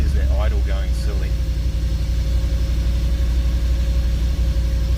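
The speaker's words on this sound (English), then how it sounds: "There's that idle going silly." A Nissan D40 Navara fitted with a V8 idles unevenly, a deep continuous engine rumble close by, while someone talks briefly over the start.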